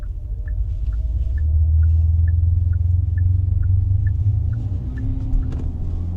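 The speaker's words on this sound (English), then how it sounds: "I really want to hear this engine noise." Inside the cabin of a 2024 Genesis GV70 Electrified, the simulated engine sound is a steady low droning rumble that swells slightly while driving, with faint rhythmic ticking on top.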